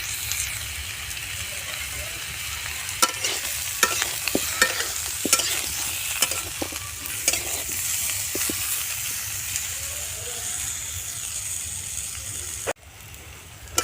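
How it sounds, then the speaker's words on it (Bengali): Young jackfruit and potatoes sizzle and crackle in a hot pan while a utensil stirs and scrapes repeatedly, close and steady throughout. "আলু আর এঁচোড়কে খুব ভালোভাবে ভাজা করে নিচ্ছি"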